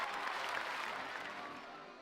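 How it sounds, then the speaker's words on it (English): Park guests clap in RollerCoaster Tycoon Classic, a steady wash of game-crowd applause that fills the clip and tapers slightly toward the end, with no talk. "I'm going to go and enjoy the clapping that people are doing for me"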